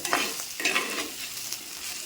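Bitter gourd curry with fried onions being stirred in a pan, a soft steady sizzle with a few brushing spatula strokes early on, close and without talk.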